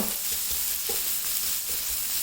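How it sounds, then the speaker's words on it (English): Noodles for Thai drunken noodles sizzle and crackle steadily in a frying pan over medium heat, a continuous close hiss with faint stirring scrapes. "Hear that? Hear that sizzle?"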